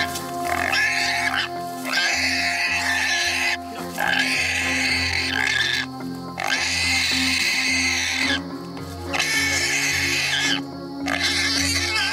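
Loud, continuous grunting and snorting from a wild pig sow in the Australian outback, rising in repeated harsh bursts with brief pauses between them.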